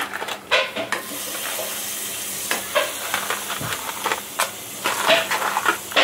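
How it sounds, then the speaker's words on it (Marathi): Crabs dropped one at a time into hot oil and masala for a crab curry, giving a steady close sizzle and hiss with occasional stirring and pan clatter. "आता एक एक खेकडा मी याच्यामध्ये सोडते."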